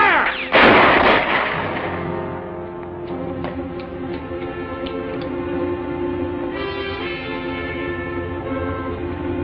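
Gunfire in a western film, a loud close blast early on followed by echoing shots and sustained rumbling under a steady music-like tonal background.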